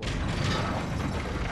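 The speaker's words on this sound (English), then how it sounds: "I think it's like a hand crank machine gun" A hand-crank machine gun in the video game Bloodborne fires in a steady, dense mechanical rattle, loud and continuous like a spinning ratchet, with no voices.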